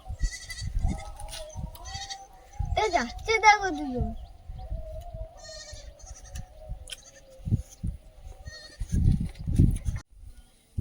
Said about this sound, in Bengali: যাবো ছাগলগুলো ফিরেছে বাড়িতে